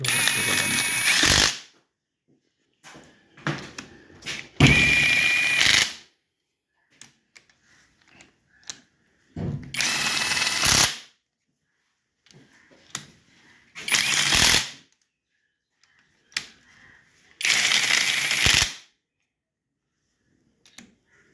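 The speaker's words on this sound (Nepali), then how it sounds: "टक रेन्च चाहिँ एकदम अनिवार्य छ यो चाहिँ हेडहरू कस्नको लागि" A torque wrench tightening the head bolts on a Scorpio LX engine during head gasket fitting gives five separate bursts of close mechanical ratcheting, each about a second long, with quiet gaps between them.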